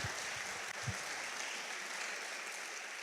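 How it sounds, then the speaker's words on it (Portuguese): Congregation applause in a church service, a sustained wash of clapping from many people, fairly distant and even, with a couple of low thumps at the start. "foi aniversário do Abdala, dá um aplauso a Deus pela vida dele"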